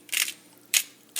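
Old Bay seasoning is shaken into a bowl in three quick, close, gritty bursts with brief quiet gaps between them.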